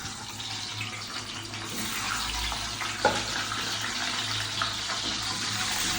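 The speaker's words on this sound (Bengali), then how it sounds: "সিদ্ধ করা ডিমগুলো হালকা লবণ দিয়ে এবার তেলে ভেজে নেব।" Lightly salted hard-boiled eggs frying in hot oil give a steady, close sizzle that runs unbroken for the whole stretch, with one small clink partway through.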